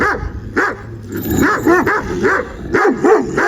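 A chained dog barks repeatedly up close, loud sharp barks in irregular bursts, some with a whining edge.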